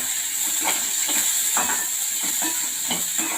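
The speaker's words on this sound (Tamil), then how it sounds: "நம்ம இது எல்லாத்தையுமே இந்த பச்சை வாடை போகிற வரைக்கும் நல்லா வதக்கிடணும்" Onions sauté in a pan for chana masala, giving a continuous hissing sizzle. Soft, periodic scraping strokes of stirring sound close by.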